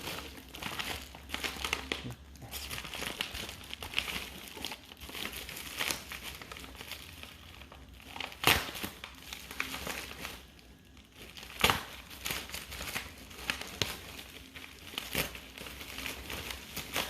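Packing paper crinkles and rustles close by while 3D printed Star Trek Online ships are unboxed, soft continuous crumpling with a few sharper crackles spaced through.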